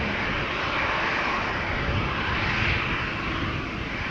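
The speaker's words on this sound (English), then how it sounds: "KLM flight 1313 to Warsaw," KLM jet airliner on flight 1313 to Warsaw taking off at Amsterdam Schiphol, a steady broadband engine roar that stays loud and close throughout, swelling slightly near the middle.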